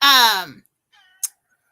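A cat gives one loud, close, drawn-out meow that falls in pitch, followed by a faint brief trailing sound and a short soft noise burst, with silence in between.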